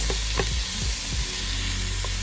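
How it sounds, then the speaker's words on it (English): Vegetables sauté in hot olive oil in a pot for potato soup, giving a steady close sizzle with a few soft stirring knocks and scrapes, no voices. "now I'm going to begin to saute my veggies until they become translucent or soft"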